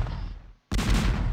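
Cannon fire in the video game Vlad Tepes Dracula: a loud, booming battle blast erupts right after a brief moment of silence and rolls on as dense, close rumbling.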